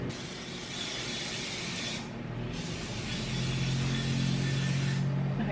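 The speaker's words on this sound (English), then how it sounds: "Now I need to spray these pans." A steady, close hiss of cooking spray onto baking pans runs in long continuous bursts with a brief pause between them.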